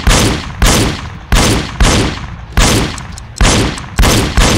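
Light gun shots in a Wii shooting game on the Dolphin emulator crack out in a loud, evenly spaced series of about nine blasts, each decaying into a short echoing tail.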